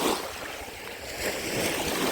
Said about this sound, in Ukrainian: А тут щось неспокійне море.